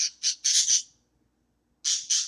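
Birds squawk loudly and harshly nearby in a burst of four calls, then a pause, then two more, with no talking over them.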